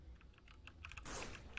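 Repeated dry trigger clicks from a jammed gun in S.T.A.L.K.E.R. Anomaly, a series of short sharp clicks at close range, followed by a louder burst of noise near the end.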